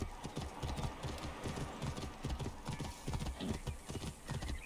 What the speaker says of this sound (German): Und dann müsste ich wahrscheinlich bis darüber juckeln mit dem Pferd